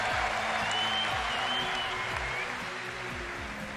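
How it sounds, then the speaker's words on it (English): A large arena audience at the League of Legends World Championship applauds in a dense, steady wash of clapping that slowly eases, with a voice faintly underneath. "getting the applause he deserves"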